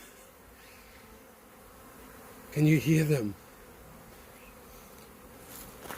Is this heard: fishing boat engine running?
no